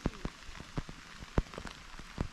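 Rain falls on a mountain trail on Monte Reixa above Arenzano, with misty weather. Irregular, distinct drops tap nearby at uneven intervals over a soft, steady hiss, with no voices.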